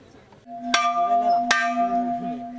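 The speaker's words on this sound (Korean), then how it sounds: "수업 시간을 알리는 종이 울렸다." A metal bell made from a car wheel rings out twice with clear, sustained tones that linger and overlap, struck about a second apart, loud and close.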